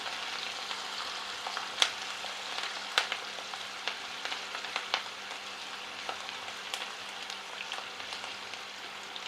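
Onions fry in a pan with a soft, steady sizzle and scattered light pops and ticks, heard close but fairly quiet, with no one speaking.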